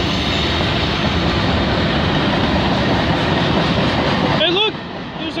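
A freight train with gondola cars loaded with railway ties rolls past at Old Guelph Road in Dundas, Ontario, a loud continuous close rumble and rattle of wagons that abruptly drops near the end, followed by a brief whistle-like tone.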